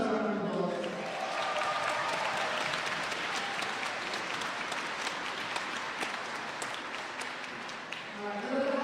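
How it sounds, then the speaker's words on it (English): Audience applause at a jigsaw puzzle competition, a sustained roomful of clapping lasting several seconds, with a voice briefly heard at the start and end. "yourselves a round of applause."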